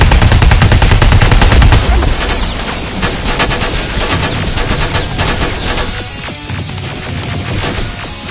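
Heavy rifle and machine gun fire in the video game Terminator Resistance, a loud, continuous barrage of rapid shots that starts with deep booms and then settles into sustained rattling.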